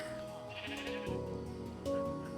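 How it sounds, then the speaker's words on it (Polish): A few clear sheep bleats from Minecraft, close and distinct, coming one after another in a short burst. "Owce mamy w różnych kolorkach."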